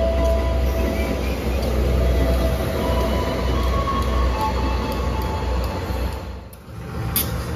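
KA Bengawan passenger train in Indonesia, with mild-steel executive and luxury cars: a steady close rumble of rolling cars with faint squealing, dipping briefly near the end and then returning, with no voices.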